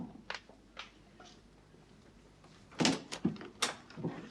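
A home's front door being opened, heard as a quiet stretch of room tone followed by a few soft clunks and clicks of the latch and door moving, fairly faint and close by.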